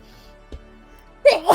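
A sneeze bursts out loud and close near the end, a sharp inhaled build-up followed by the explosive release, after a faint quiet stretch with a small bump of sound.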